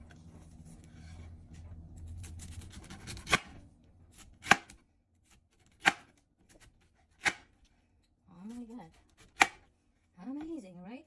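A knife slicing through a peeled pineapple, six sharp separate cuts landing about every second or two against a board, close and crisp, with a voice speaking briefly near the end.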